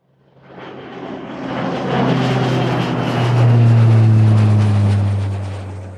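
Airplane engine drone builds from nothing into a loud, steady roar with a deep low hum, swelling to a peak and holding, like a cabin heard from inside during flight.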